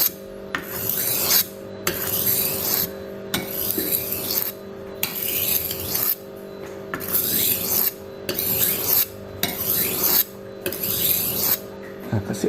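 Rhythmic rasping strokes of a kitchen knife drawn back and forth across a wet whetstone, about eight close, even passes with brief pauses between them, loud and alone over a steady low background hum.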